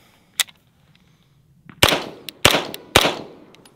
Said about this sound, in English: we're gonna put a couple rounds down